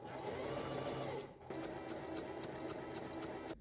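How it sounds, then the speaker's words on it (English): A sewing machine stitching buttonholes with a buttonhole foot, a fast, steady mechanical whir with a brief pause partway, close and alone. "I'm going to use this foot on my machine to do my buttonholes."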